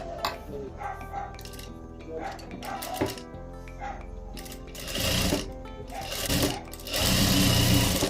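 A sewing machine stitches the side seams of a blouse being remodeled. The motor whirs in close, rattling bursts that stop and start, growing louder and longer toward the end.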